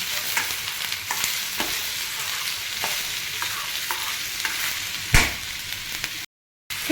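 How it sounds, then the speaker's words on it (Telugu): Chopped tomato frying in a pan for radish (mullangi) chutney gives off a steady bright sizzle broken by repeated scraping stir strokes. One louder clunk comes near the end before a brief silent gap, and no one speaks. "బాగా టమోటా కూడా మగ్గేదాకా ఫ్రై చేసుకోవాలి."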